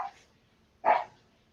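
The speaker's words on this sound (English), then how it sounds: "The dog agrees." A dog gives two short barks close by, the first cut off at the start and the second louder a moment later, with quiet in between.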